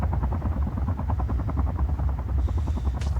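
A video game helicopter makes a rapid, rhythmic rotor chop, a steady pulsing thrum that holds throughout at a close, fairly loud level, with a short bright electronic chirp near the end.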